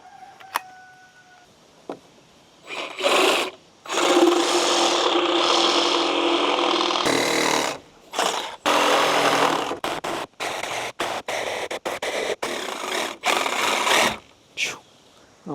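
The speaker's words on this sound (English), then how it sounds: "use my Sawzall and cut upwards and see if I can make this little smiley face work" A Sawzall reciprocating saw cuts upward through deck wood during a deck build in loud, rasping bursts: a long sustained cut, then a run of short stop-start cuts separated by brief pauses.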